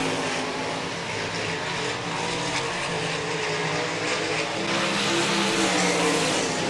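Sportmod and RaceSaver sprint cars race on the dirt oval at Park Jefferson Speedway, a steady, loud, dense engine roar from a pack of cars that holds throughout with no talk.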